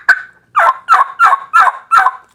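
A voice imitates a hen turkey's yelp: six loud, sharp, evenly spaced notes, each a short rasping call with quiet gaps between, heard close and alone.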